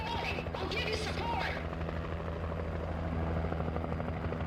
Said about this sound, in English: I'm gonna definitely enjoy hearing a helicopter above me all this time.